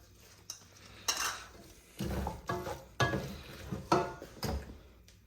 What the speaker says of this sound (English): You want to fry this on medium high heat